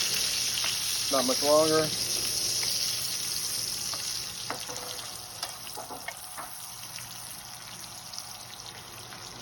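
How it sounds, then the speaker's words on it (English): Bacon fries in a pot, giving a steady soft sizzle close by under a short burst of speech, with a few light clinks of a utensil against the pot. "we got the bacon cooking"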